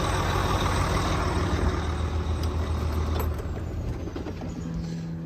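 A 2016 Mack Pinnacle CXU613 truck with an MP8 engine runs with a loud, steady diesel rumble up close, then the drone drops off and fades as the engine shuts down, with no talking.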